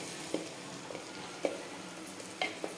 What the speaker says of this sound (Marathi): तळून घ्यायचं याच्यात.